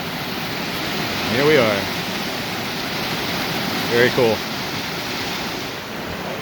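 Waterfall at Slot Creek in the Arkansas Ozarks, a steady broadband rush of falling water that fills the whole clip, with someone talking briefly over it twice.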